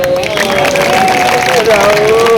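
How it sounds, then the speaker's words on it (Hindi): An audience at an all-India Hindi poetry recital in Mohammadi, Lakhimpur Kheri, claps loudly and continuously amid crowd noise and a sustained tonal voice or music line running underneath. "तालियां बजाओ"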